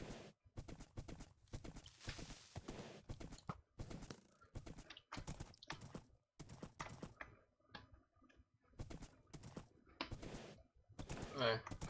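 Horse hooves clip-clop in a Minecraft survival game, rapid repeated thuds running through most of the stretch alongside bursts of other game noise, fairly loud and close.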